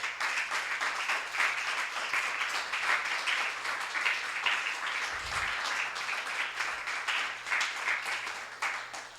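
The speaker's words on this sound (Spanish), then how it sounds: "Dale un aplauso, hermano." A church congregation applauding during a sermon, a steady broadband patter of many hands that holds moderately loud across the whole stretch with no voices over it.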